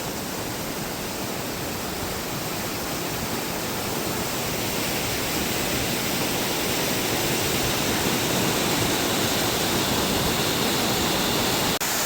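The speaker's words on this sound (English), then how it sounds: "Here's this waterfall just off the side from Narrows Lookout." A waterfall near Narrows Lookout in the Narrows Gorge, flowing strongly after rain, pours in a steady, broad, hissing roar that stays constant throughout with no voices.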